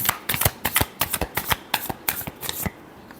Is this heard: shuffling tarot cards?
yes